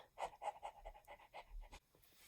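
A voice imitates the frantic panting of a rabid dog with rabies, a run of quick, harsh breathy pants in steady rhythm, close and fairly loud, ending in a short sharp gasp.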